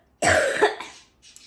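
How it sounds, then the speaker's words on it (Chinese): A person with a severe cold coughs hard once, a close, loud, harsh burst followed by a rasping trail and a faint second catch, with no talking. "一直就是咳嗽，咳得我一看这儿心口疼"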